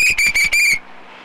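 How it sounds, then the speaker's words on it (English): A handheld whistle blown in four sharp, shrill bursts with brief gaps, loud and close, followed by a quiet outdoor background. "I got my whistle right here. All I got to do is blow."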